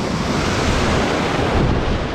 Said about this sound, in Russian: Что-то волны больше стали.